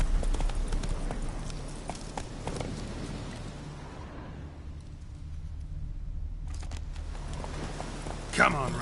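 Roach, a horse in the video game The Witcher 3, gallops with a quick rhythmic clip-clop of hooves under game ambience, briefly fading before a sharp burst near the end.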